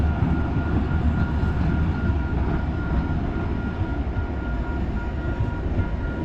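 A northeast light-rail train passing in Calgary and heading into downtown, a steady, heavy rumble that holds level throughout at moderate distance.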